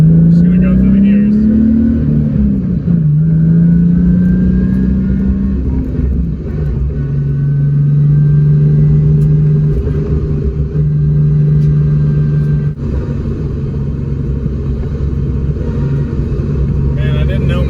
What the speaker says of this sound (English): How loud this drivetrain is now. Just gonna go through the gears.